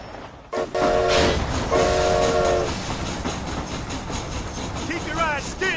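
A train in the Red Dead Redemption game rumbles along with a loud clattering roll and two sustained horn blasts near the start, while a voice talks over it.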